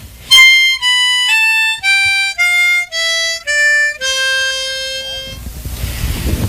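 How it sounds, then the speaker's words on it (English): A C diatonic blues harmonica plays a descending major scale: eight loud, close, buzzy reed notes step downward in even, slightly detached beats, the last held longest before fading into a breathy hiss. "And a descending scale would sound like this."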